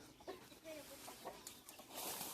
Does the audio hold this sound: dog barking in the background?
no